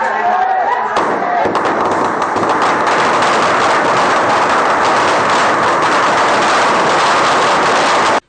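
Explosions set off by an unruly crowd outside a head office: a harsh, loud burst of crackling blasts gives way to sustained dense popping and crowd noise that runs on evenly before cutting off abruptly.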